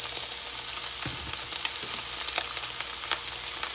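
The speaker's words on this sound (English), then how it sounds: "the heat from the pan is going to start to saute the cabbage" Cabbage and onions sautéing in a hot pan, layered over bacon and Spam for ramen, a constant close sizzle with occasional stirring clatter and pops.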